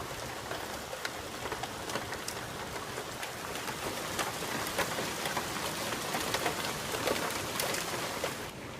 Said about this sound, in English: It's pouring down out there now